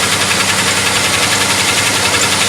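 Engine of a 2003 Pontiac Montana minivan runs close and loud with a steady rumbling drone and faint repetitive ticking; the belt has a slight chirp, with no voices.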